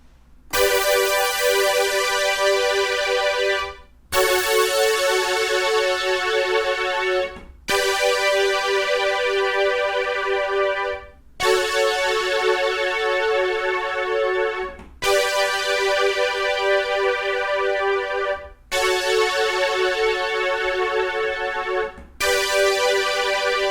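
Sustained keyboard chords with a bright, organ-like tone, each held for a few seconds before changing, the chord progression repeating four times, with no voices.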